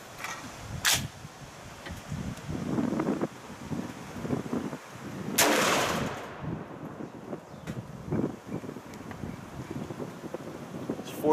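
A 7.5-inch-barrel .50 Beowulf short-barrel rifle fires a string of three shots outdoors over a chronograph. Three sharp, loud cracks are spaced seconds apart, with gusty wind noise between them.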